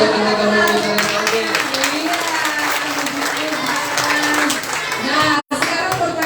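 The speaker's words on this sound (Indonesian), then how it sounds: "Tepuk tangan buat teman-teman di sana." A crowd at a children's Christmas event claps hands in sustained applause, dense and fairly loud, with voices mixed in and a brief dropout near the end.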